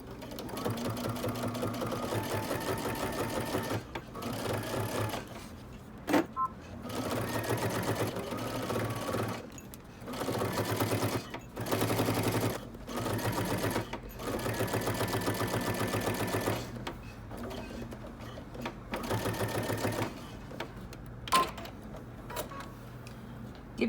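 A sewing machine stitches steadily along the edge of a dress binding, running in long bursts with brief pauses between runs, close and continuous.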